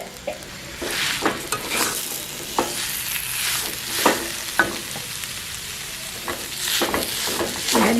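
Tuber pieces sautéing in a hot pan, with a steady crackling sizzle and repeated scrapes and clinks as the pieces are stirred at close range.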